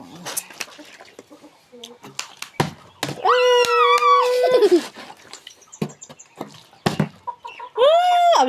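Chickens cluck and squawk close by in short bursts, with several long drawn-out calls rising over the scattered clucking, and people talking intermittently in between.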